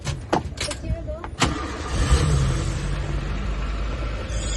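A 2009 ex-Army Maruti Gypsy 4x4 engine, a few sharp clicks and knocks at first, then a steady low idling rumble that settles in close and loud.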